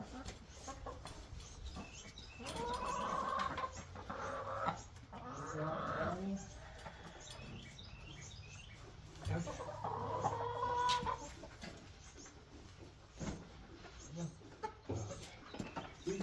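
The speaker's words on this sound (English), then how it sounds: "Chickens." Chickens on a homestead cluck in scattered bursts at a modest distance, with soft rustling and quiet background noise between the calls.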